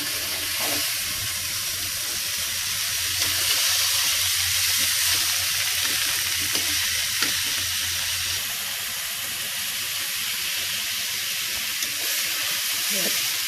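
Mixed vegetables sauté in a pan with soy sauce and black pepper, a loud, continuous close sizzle and hiss with occasional faint stirring scrapes and no talk.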